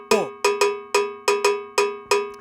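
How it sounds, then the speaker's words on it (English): A metronome cowbell plays a bembe rhythm with no voice count, bright repeated metallic clanks in an uneven looping pattern, clear and close. "which is the same cowbell rhythm but without the voice count."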